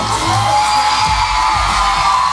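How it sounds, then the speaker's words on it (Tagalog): A television studio audience at a birthday celebration for a celebrity couple whoops and cheers wildly. The roar is loud and continuous and is mixed with yells and a few bangs. "And the crowd goes wild"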